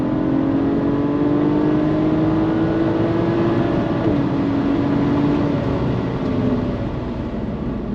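A BMW 335is E92 with the N54 engine and DKG gearbox accelerating, a loud steady engine drone with a rising tone that dips briefly at a quick gear change, then climbs again.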